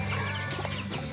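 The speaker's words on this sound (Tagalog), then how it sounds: "Ang akong alaga ng mga chicken." Pet chickens cluck close by in a short, brief burst of clucking with farmyard background.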